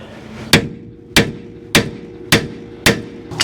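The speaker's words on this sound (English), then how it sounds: "now here you need to get a little Tanya Harding, and we're gonna hit right here" A hammer strikes the steering spindle of a 2008 Ford Ranger: five sharp metallic blows, evenly spaced about half a second apart, loud and close, with no talking.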